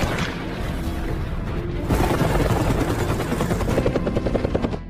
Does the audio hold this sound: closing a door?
no